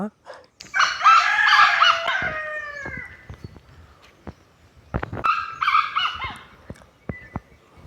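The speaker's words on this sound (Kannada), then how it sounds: "ಕಾಡು ಕೋಳಿ ಬುಲಿಪುನಕ್ಕೆ" Wild junglefowl calling outdoors: a loud crowing phrase, then sparse clicks and taps during a pause, then a second, shorter crowing call, all fairly close.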